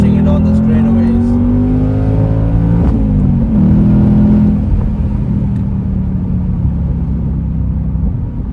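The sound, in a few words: Ford Mustang GT convertible accelerating out of corners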